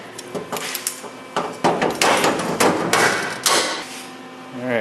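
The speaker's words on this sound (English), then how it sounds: "let me clamp that up real quick." Sharp metallic clanks, taps and clatter ring out as clamps are fitted onto a car trunk drop-off panel during body repair, irregular close knocks with a faint squeak at the end.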